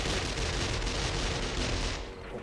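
Video game explosions rumble in a sustained, loud blast of booming noise and crackle, then begin to fade at the end, with no speech.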